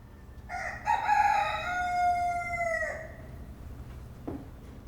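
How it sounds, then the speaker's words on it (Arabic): A rooster crows loudly and close by in the morning countryside, one long drawn-out call that rises and then trails off, followed after a pause by a brief faint cluck. "أو أشجى صوتاً من صياح الديكة وتغريد العصافير في صباحات مشرقة"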